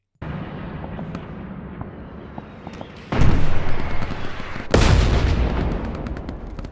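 Artillery shells and grenades explode in the World War II shooter Hell Let Loose, two heavy booming blasts landing close by, at about three and five seconds, over a steady low battlefield rumble and scattered distant gunfire.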